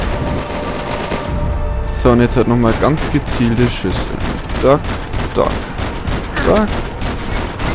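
Gunfire in the video game Max Payne 3, bursts of shots ringing out in rapid clusters while someone talks over the action throughout.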